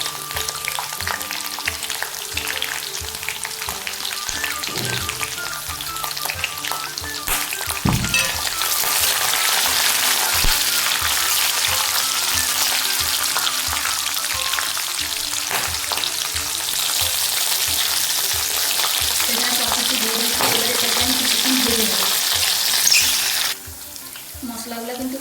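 Garlic, peanuts, green chillies, cumin and coriander fry in a pan with a strong, continuous sizzle. Clattering stirring comes through close up, and the hiss swells louder through the middle before dropping back near the end.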